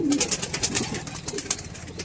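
Red Madrasi pigeons in a loft giving low cooing calls, fairly close and steady, with light rustling and clicks around them.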